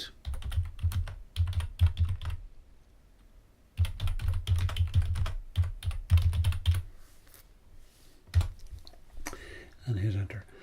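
Bursts of quick typing on a computer keyboard while a project name is entered in Ansys Workbench 18.1, clattering keystrokes in close clusters separated by short pauses, with a faint voice near the end.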